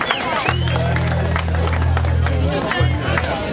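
Audience at a live band show clapping and cheering while the crowd chatters, with a steady low hum running under the noise throughout.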